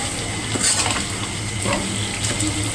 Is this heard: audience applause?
no